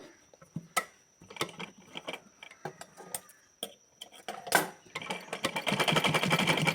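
A faulty sewing machine is worked in short, uneven bursts of clicking and ticking, then runs into a continuous fast rattling chatter toward the end. The machine is close and no one talks over it.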